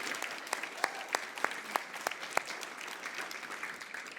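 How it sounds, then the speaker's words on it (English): Audience applause at an early childhood policy event, moderately quiet, a soft wash of clapping with a handful of sharper individual claps standing out, then gradually thinning. "I think everyone here owes you a round of applause"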